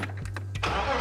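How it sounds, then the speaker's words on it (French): A BMW E46 running on old ethanol fuel cranks briefly with a few quick turns, then catches and fires into a steady engine roar, close and loud with no talking. "vous avez vu le moteur démarrer"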